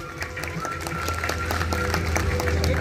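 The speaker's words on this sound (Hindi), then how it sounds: "ताली तो बजाइए।" An audience at a Brahma Kumaris silver jubilee event in Mumbai breaks into steady, sustained clapping that fills the hall at moderate loudness for a few seconds, with a faint voice underneath.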